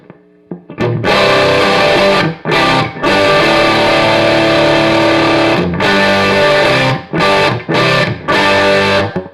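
Distorted electric guitar played through an Epiphone Valve Jr, a one-knob valve amp with no reverb, driving a Celestion Vintage 30 speaker; loud, sustained overdriven chords in several bursts with short gaps between.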